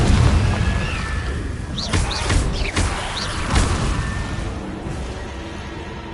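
Booming burst of the Confringo fire-blast spell in Hogwarts Legacy, a deep rumbling explosion with several sharp cracks and whooshing tails, loud and full, fading over a few seconds.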